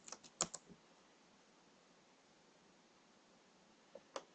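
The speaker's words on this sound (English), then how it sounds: "So we're going to type in virtual host." A few quick keystrokes on a computer keyboard at the start, then near silence, with two more taps near the end; sparse, close and fairly quiet, no talking.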